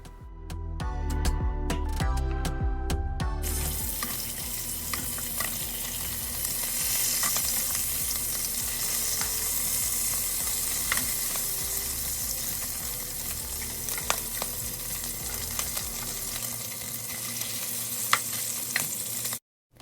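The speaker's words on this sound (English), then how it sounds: "I wanted to use bacon, so I want to fry that first" Bacon fries in a pan with a steady, close sizzle and scattered pops. A brief musical intro plays before it and the sizzle runs on alone.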